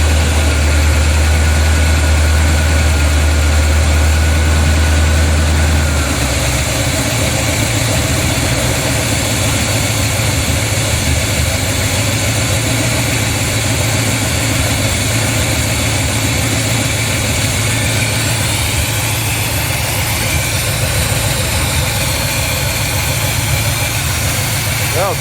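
Chevy small block 350 V8 idling in a 1987 Dodge Dakota, a steady loud rumbling idle with a deep low drone that drops away after a few seconds, leaving a continuous close engine hum.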